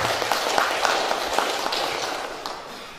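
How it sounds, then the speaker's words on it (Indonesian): Audience clapping at a community gathering with gravediggers, a dense, even patter of applause that fades slightly toward the end. "Yang kita berikan aplaus kepada ini."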